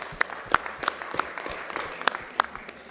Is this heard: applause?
yes